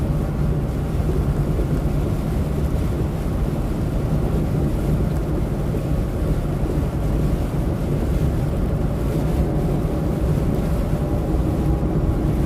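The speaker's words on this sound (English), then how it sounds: "Feel the wind rushing up through here." Steady, loud wind roars past a truck cab as it rolls down a Kentucky backroad, a constant low rumble with no breaks and no voices.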